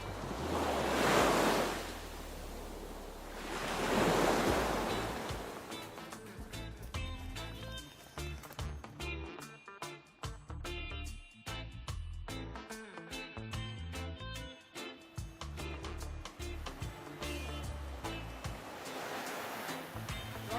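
Ocean surf on a Texas beach rolls in as broad, roaring washes of breaking waves, joined by wind buffeting the microphone and rustling, steady and fairly loud throughout.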